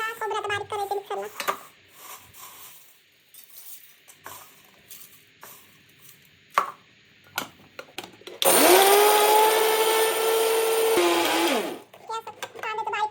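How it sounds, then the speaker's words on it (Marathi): A kitchen mixer grinder grinds onion and coconut for Solapuri black masala in a loud, steady whirring burst of about three seconds, rising from quieter stretches of speech and handling noises before and after. "त्याला कांदा खोबरं आता बारीक करायचं मिक्सरला."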